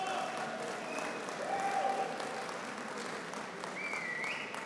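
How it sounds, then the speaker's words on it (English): Audience applause fills a cryptography conference rump session hall, steady clapping from a crowd continuing throughout with faint tonal squeaks and murmurs mixed in, moderately distant. "please applause"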